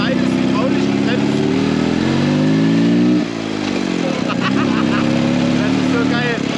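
A heavy BMW R75 motorcycle with sidecar runs close by, its engine droning loud and steady with rising and falling revs as it is ridden, a brief dip midway, and no talk over it.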